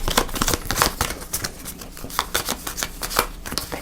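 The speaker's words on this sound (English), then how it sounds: "So shuffle everything other food back into the food deck." Game cards being shuffled back into the food deck of the Dungeon Degenerates board game, a steady run of soft papery riffles and flicks up close for several seconds, with no talking.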